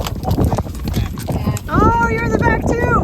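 Horse hooves clip-clop steadily and close by on a group trail ride, with a rhythmic clatter running under people talking and a short whinny-like cry partway through.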